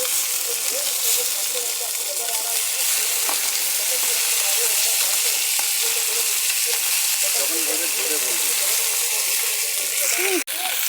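Silver carp pieces frying in an oiled wok give a dense, loud, continuous sizzle, with faint voices murmuring in the background and a brief clatter near the end.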